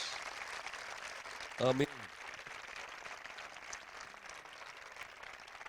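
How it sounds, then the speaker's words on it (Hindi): Steady crowd applause fills a convention hall during a religious gathering, a continuous soft wash of clapping with a voice briefly calling out over it. "जोरदार ताली बजा लें, हाथ ऊपर करें।"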